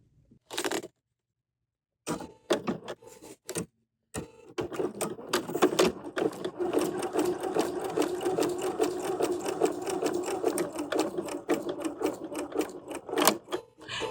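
A sewing machine runs the final small stitches on a paisley fanny bag strap. It opens with short separate bursts and pauses, then settles into a long, steady close run. There is no talk.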